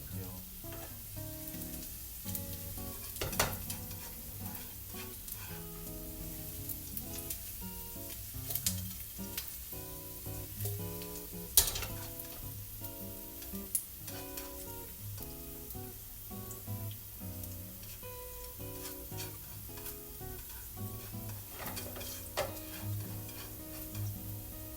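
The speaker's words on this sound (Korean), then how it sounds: "마늘을 조금 약간 노릇노릇하게 익혀주시기를 바랄게요" Garlic frying in a pan until golden gives a steady, close sizzle dotted with sharp crackles and pops that continue throughout, with no voices.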